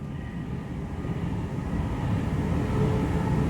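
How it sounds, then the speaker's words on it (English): Voyager train passing near the line between Tring and Cheddington, heard as a steady rumbling roar that builds gradually and grows louder over a few seconds, with no talking. "Another Pendolino Voyager."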